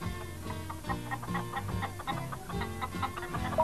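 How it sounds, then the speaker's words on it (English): Hens clucking in a 1995 Postman Pat children's story, a series of short close clucks and squawks in an uneven rhythm over soft background music. "I saw 3 naughty hens who tried to steal my sandwiches."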